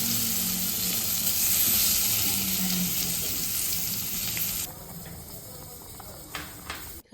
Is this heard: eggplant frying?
yes